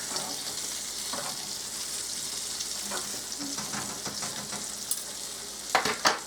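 Breaded chicken cutlets fry in a pan for chicken Parmesan, giving a steady close sizzle with scattered crackles and a few louder spits of oil near the end, no voices.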